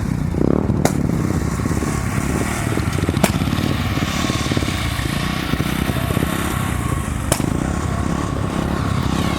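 A group of motorcycles rumbles steadily nearby as riders head off together from a campsite in India, a loud continuous engine drone with a few sharp knocks.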